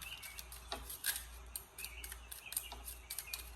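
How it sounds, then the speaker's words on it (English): Chirps and tweets from a small electronic bird-sound noise maker, a quick run of short, bright tones that repeat irregularly at moderate, fairly quiet level over a faint background hum, with no talking. "Y'all like my bird sounds? I got this little noise maker on Amazon."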